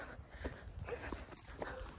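Dogs at an old historic bathing site in a village, heard faintly and at a distance as brief, scattered sounds against quiet background noise.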